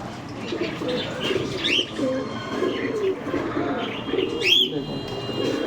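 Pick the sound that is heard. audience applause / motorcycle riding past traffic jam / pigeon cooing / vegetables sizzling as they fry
pigeon cooing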